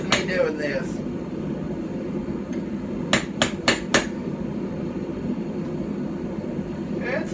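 A hammer forges metal on an Anglo-Saxon or Viking-style stump anvil: a single strike opens, then four sharp ringing blows land in quick succession, with a last hit near the end over steady background noise.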